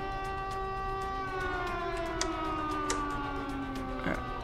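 Police siren in the video game Contraband Police, a steady wailing tone with long sweeping pitch glides, moderately loud and alone with no talk, a few faint clicks over it.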